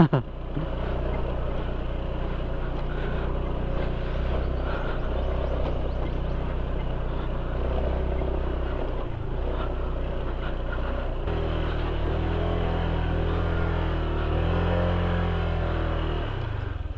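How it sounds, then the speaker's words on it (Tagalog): A Honda Click scooter engine runs loud and steady for the whole stretch on a long ride, its pitch climbing toward a high-revving whine near the end. "Ramdam ko na yung iyak ni Click oh. Taas na ng RPM niya oh."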